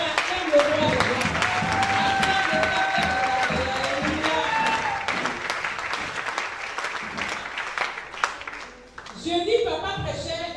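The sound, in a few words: congregation applauding and acclaiming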